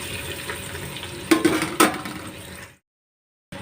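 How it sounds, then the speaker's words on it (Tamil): Chopped onions dropped into hot oil and ghee for egg biryani, giving a steady close sizzle with two sharp bursts of crackle as they hit the pan, then cutting off abruptly into silence. "இப்போ வெங்காயம் எல்லாம் போட்டிருக்கோம்,"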